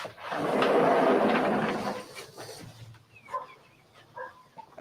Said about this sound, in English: Annie barking at Gabby.